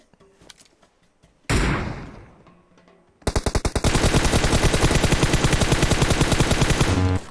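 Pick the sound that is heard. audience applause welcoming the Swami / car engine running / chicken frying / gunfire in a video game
gunfire in a video game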